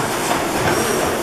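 A 600-horsepower Snow Worthington reciprocating natural gas engine runs with a loud, dense rhythmic mechanical clatter, steady and close.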